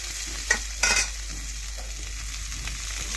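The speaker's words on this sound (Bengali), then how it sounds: "করলাটা একটু ঘুরিয়ে ফেরিয়ে ভালোভাবে ভাজতে হবে।" Bitter gourd stirred and fried in oil, a steady close sizzle with a few louder scraping stirs of a spatula, no voices.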